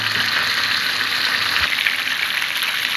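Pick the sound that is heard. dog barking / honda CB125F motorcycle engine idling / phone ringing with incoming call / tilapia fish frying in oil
tilapia fish frying in oil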